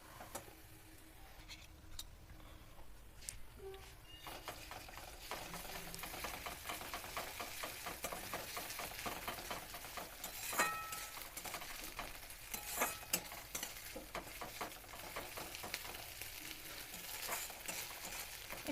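Onion frying with ginger, garlic and green chili paste for spicy chicken mince crackles softly and steadily in a pan. Frequent clicking stirring strokes scrape through it for almost twenty seconds.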